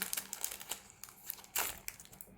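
Foil FIFA World Cup Russia 2018 sticker packets being torn open and crumpled by hand, close and crisp, with irregular bursts of crinkling and one louder rip partway through.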